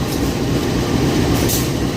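A shunting train with a KA Blambangan Express locomotive rumbles loud and close, a dense continuous roar of engine and rolling wagons with no voices.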